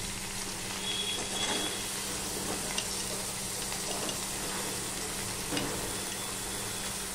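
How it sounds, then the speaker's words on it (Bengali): Potato, pointed gourd and papaya sizzle steadily in hot oil, a dense continuous frying hiss close by with occasional stirring clicks and no talking. "সবার প্রথমে আলু আর পটল আর পেঁপেটা দিয়ে দিচ্ছি।"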